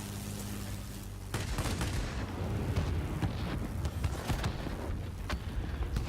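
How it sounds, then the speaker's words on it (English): Cannons on a Nakajima Ki-84 Hayate fighter firing in World of Warplanes, rapid booming bursts rolling continuously after a low engine drone, loud and close with no talk over them. "The sound of those cannons never gets old."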